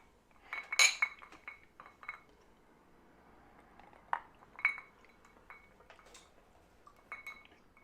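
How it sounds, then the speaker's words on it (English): Glasses of Elmer T. Lee bourbon clink in a quiet toast, giving a few light, bright chinks scattered through soft handling sounds, close and faint, with no voices. "Clink 'em and drink?"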